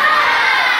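Schoolchildren in a junior high classroom cheering and shouting together, a loud, sustained crowd of young voices close by.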